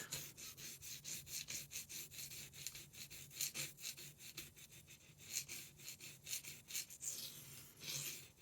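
A knife blade is being sharpened on a 1200 grit stone, giving steady rhythmic scraping strokes, roughly two per second, close and fairly quiet with no speech.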